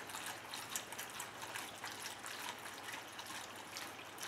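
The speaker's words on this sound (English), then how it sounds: "I'm gonna give it a good slug of vinegar." Vinegar pours in a steady trickling stream into a stock pot of quartered green tomatoes on the stove, close and continuous with no talking.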